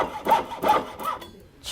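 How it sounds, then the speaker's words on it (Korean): A hand saw rasps through a gold ring in several short back-and-forth strokes, close and fairly loud, then stops. "자로 재지도 않고 무작정 톱질을 하는 고수."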